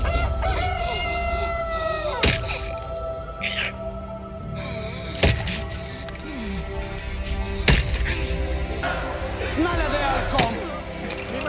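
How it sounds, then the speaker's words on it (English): A rooster crows amid a busy mix of background sounds, with a few sharp bangs and clinks cutting through. "the sharp cry of a rooster pierced the night"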